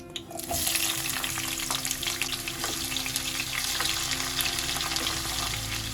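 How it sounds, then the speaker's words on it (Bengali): Two medium-sized chopped onions sizzle in hot oil in a home kitchen pan, giving a steady, close crackling hiss with faint stirring scrapes and no talking. "পেঁয়াজটা লাল লাল করে ভেজে নেব"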